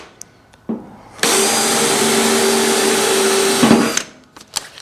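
A power drill with a 1/8 inch bit bores pilot holes in a vehicle interior repair, a loud steady whine that starts abruptly, holds for about three seconds, then cuts out, with a few knocks around it.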